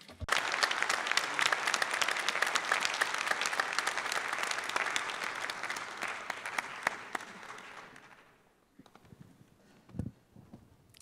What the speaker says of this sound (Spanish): Y quisiera pedirles un aplauso para nuestro presidente saliente, el señor Paul Mitchell.